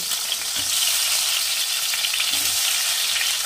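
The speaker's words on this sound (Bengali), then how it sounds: "তেল গরম হয়ে গেছে, এবার আমি এই কেটে রাখা আলুগুলো ভেজে নেব।" Cut potatoes and green banana frying together in hot mustard oil, a steady loud sizzle with a couple of soft stirring scrapes, close and continuous with no talk.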